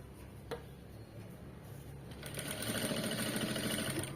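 A sewing machine stitches along fabric beside thread piping, starting with a faint click and then building into a steady close whirring run of rapid stitches.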